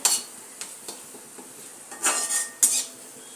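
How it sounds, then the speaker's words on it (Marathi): Onions for kondaji chivda being fried in a kadhai, heard as metal spoon scrapes and clanks against the pan over a faint, low sizzle, with a few sharper knocks spaced irregularly and no talking. "आता हा आपला कांदा क्रिस्पी होईपर्यंत तळायचा आहे"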